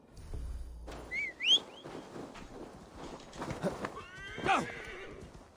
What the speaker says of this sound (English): I want to get my steed